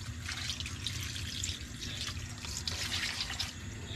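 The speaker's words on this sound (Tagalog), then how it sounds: "Lagyan natin ng konting tubig para konti lang." Water is poured into a pot of crab stew simmering in coconut milk, giving a steady, close splashing rush that runs unbroken for several seconds.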